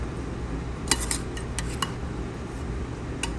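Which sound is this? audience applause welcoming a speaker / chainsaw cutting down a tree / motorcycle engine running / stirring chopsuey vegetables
stirring chopsuey vegetables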